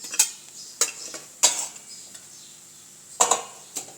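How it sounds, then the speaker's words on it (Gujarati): A spoon stirs lemon juice and crushed black pepper into a mixture in a pan, giving a handful of sharp, separate clinks and scrapes at uneven intervals against a quiet background. "અને બધું આપણે સરસ રીતે મિક્સ કરી લઈશું"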